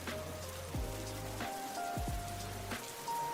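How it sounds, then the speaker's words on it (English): Recorded rain from a phone rain-sounds app plays as a steady, dense patter with low hum bands, and no talking is heard. "You can see that I use Rainy Mood on my phone for rain sounds."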